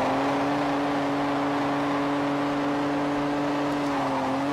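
A Toyota Supra accelerates hard on an English public road, its engine holding a loud, steady droning whine that climbs slowly in pitch throughout, with no voices over it.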